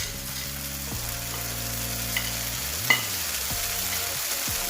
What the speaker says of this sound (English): So I am going to add my frozen vegetables.